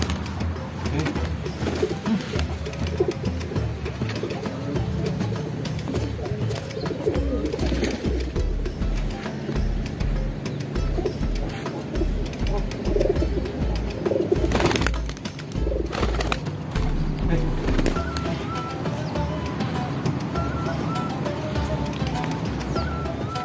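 Homing pigeons coo steadily during a training session, with low rolling coos repeating throughout over constant outdoor rumble and faint clip-clop sounds, fairly close and continuous with no talking.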